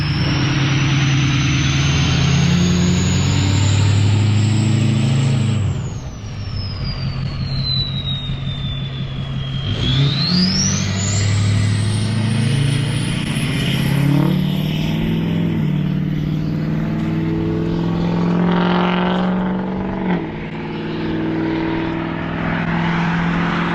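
A loud 6.0 Powerstroke diesel truck engine rumbles close by, revving up and down with a shrill whining tone that sweeps high, dips and climbs again over a constant deep drone, with no talking.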